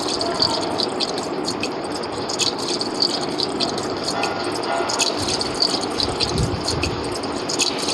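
Gasoline being poured into a boat in the video game Granny 2: a continuous gushing, splashing liquid flow with light rattling, steady and close throughout, no voices.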